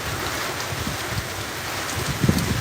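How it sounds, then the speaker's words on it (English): Hurricane Milton wind rushes past in Orlando, a broad roaring gust with rain-like hiss and buffeting rumble on the microphone. It swells slightly near the end and stays loud and close, with no one speaking. "Oh, nice little burst of wind right there."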